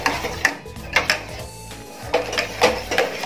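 Light clinking and scraping of a utensil stirring coffee into milk in a metal pan, a few irregular taps and swishes close by, with no talking.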